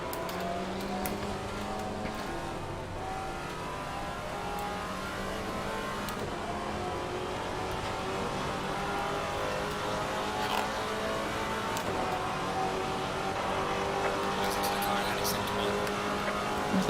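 GT4 race cars roar through the Assetto Corsa Competizione sim at Indianapolis, a continuous layered engine drone with steady harmonic tones shifting as gears change, and faint clicks on top.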